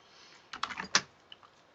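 Text is typed on a computer keyboard: a brief, quiet flurry of a few close clicks and taps clustered together in a short burst, then quiet again.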